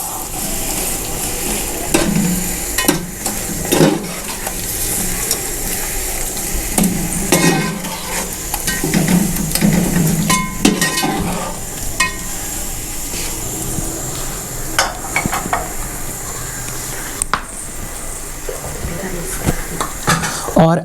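Zarda sweet rice cooking in a pot while a spoon stirs it, with close, uneven scraping and clinking of the utensil against the pot over a low sizzling hiss that continues throughout.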